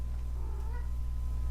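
A cat gives a single drawn-out meow, moderately loud and near, over a steady low background hum.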